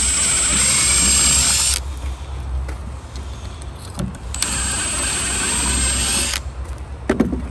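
A power drill bores holes through larch decking boards during terrace installation, its motor whining loud and close in two sustained bursts separated by a quieter pause with light handling noise.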